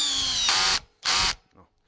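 A Bosch GSR 18V-50 cordless drill in second gear drives Torx screws into wood. Two short, loud whirring bursts come up close, separated by a brief pause, with the motor dying away quietly after each one.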